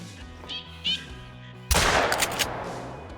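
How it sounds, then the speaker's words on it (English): A single loud shotgun blast rings out at an animal in theHunter: Call of the Wild, cracking sharply mid-clip and trailing into a few echoing rumbles after quieter game sounds. "we got him at the end with the shotgun"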